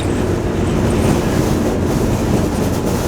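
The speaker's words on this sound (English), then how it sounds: "Blow, sand, blow. That's how hard the wind is blowing today." Strong desert wind near Quartzsite blows sand across a road, a loud, steady low roar with heavy buffeting against the microphone and no pause throughout.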